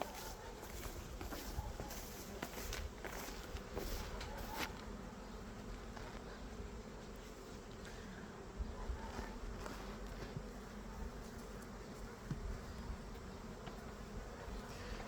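A honey bee swarm buzzes faintly at an open hive in a steady, low background hum, with occasional soft knocks and rustles of handling.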